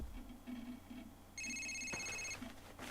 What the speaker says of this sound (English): I answered the phone at your desk because the damn thing kept ringing